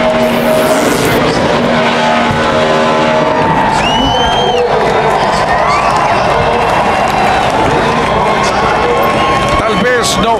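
A NASCAR race car doing a victory burnout at the Homestead-Miami season finale, its engine roaring with squealing tire screeches while the crowd cheers, under an excited Spanish-language commentator talking.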